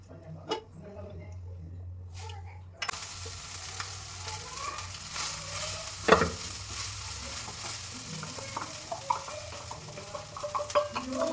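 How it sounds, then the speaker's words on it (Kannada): Peanuts being roasted in a pan, with a steady dry sizzle and intermittent stirring scrapes and light clinks, close and continuous. "ಕಡಲೆ ಬೀಜ ಹುರಿಬೇಕೀಗ"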